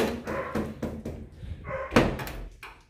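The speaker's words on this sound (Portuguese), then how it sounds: "Deixa eu fechar a porta, um cachorro latindo." A dog barks several times in short bursts, fairly close, mixed with a thump like a door being shut and some rustling.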